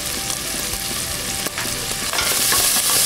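Beef rib fat sizzling in a frying pan for a quick beef and rice dish, a loud, continuous crackling fry with steady spattering close by and no talk.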